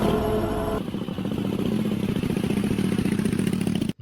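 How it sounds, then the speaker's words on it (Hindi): A motorcycle starts up and rides away as a sound effect in a haunted-bike horror story, its mid-pitched engine throbbing steadily after a brief tone, then cutting off abruptly at the end. "फिर सोनू बाइक के पास जाता है और कुछ ही देर में बाइक फिर से सही हो जाती है और सोनू बाइक लेकर वहां से निकल जाता है।"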